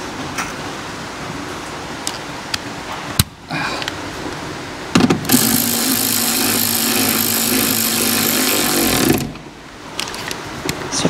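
A powered driver runs a 10mm bolt back into a Kia Ceed GT-Line dashboard, one steady whirring burst of about four seconds, close and loud, with brief clicks and handling noises before and after.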